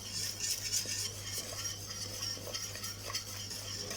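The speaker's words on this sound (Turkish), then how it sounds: "Şu şekilde kaynarken karıştıra karıştıra hafif eziyorum pilavlarımızı." Boiling rice for oven-baked rice pudding being stirred and lightly mashed in a pot, with steady soft scraping and gentle bubbling, close and continuous at low volume.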